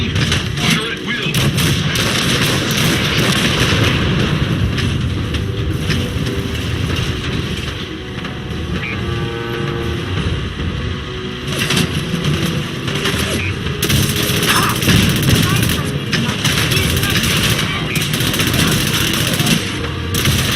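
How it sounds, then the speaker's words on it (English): Ship cannons firing in the video game Fallout 4, a dense, continuous barrage of loud booming blasts and gunfire that rolls on steadily without pause, with a faint game voice briefly underneath. "The cannons are ready. Fire at will."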